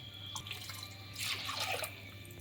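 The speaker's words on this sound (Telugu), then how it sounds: "ఇప్పుడు సరిపడినన్ని వాటర్ పోసుకుందాం" Water is poured onto rinsed toor dal, a faint trickle that swells into a brief splashing burst midway, then settles back to a quiet flow.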